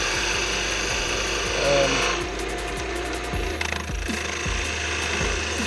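A skew chisel cuts wood spinning on a wood lathe, giving a close, steady scraping rasp over the machine's constant hum, with short bursts of rhythmic ticking as the tool bites.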